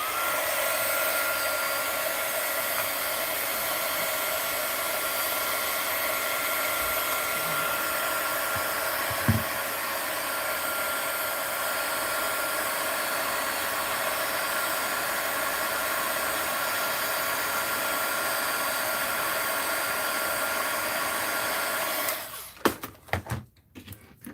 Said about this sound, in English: Heat it up a little with my heat gun.